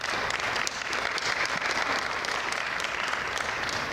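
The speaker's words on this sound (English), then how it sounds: "And a round of applause," Full audience applause for the panelists at a Lean Government panel forum in Maryland, a thick, continuous clatter of clapping that holds steady from start to finish.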